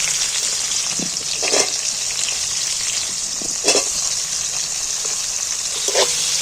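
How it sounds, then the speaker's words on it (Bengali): Onions frying in a little oil in a pan give a steady, close sizzle with a few soft bursts and pops as they cook. No voices are heard. "এইবার আমি পেঁয়াজটাকে একটু ভালো করে ভেজে নেব এই অল্প তেলেতে"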